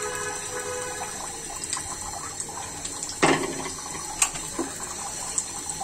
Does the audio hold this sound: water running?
yes